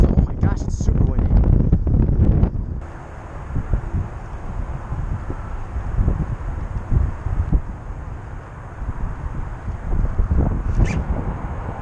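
Gusty wind buffets the microphone outdoors while fishing, with loud rumbling swells, and voices talk intermittently over it.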